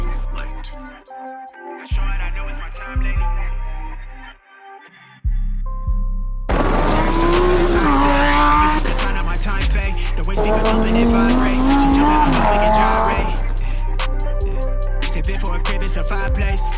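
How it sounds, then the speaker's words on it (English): A Lamborghini Huracan STO is driven hard, its engine roaring loudly and tires squealing in rising and falling wails after a quieter stretch of thumping music. "We're gonna hop in this car. I'm gonna take it for a drive."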